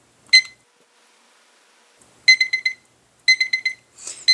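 An electronic cooking timer beeps in short, high-pitched bursts: a single beep, a pause, then two rapid clusters of four beeps each.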